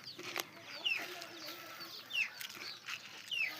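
Free-range country chickens cluck softly and sporadically while being fed, with brief higher calls now and then, faint and fairly distant against a quiet background.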